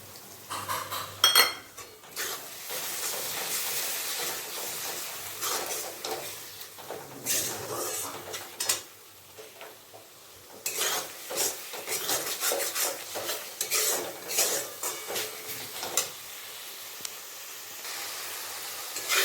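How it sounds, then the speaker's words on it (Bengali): Spice paste cooked down with melted tomatoes for a country chicken curry, scraped and stirred in a pan with repeated metallic utensil scrapes and a steady frying hiss, close and continuous without talk. "মশলা ভালোভাবে কষিয়ে নিয়েছি"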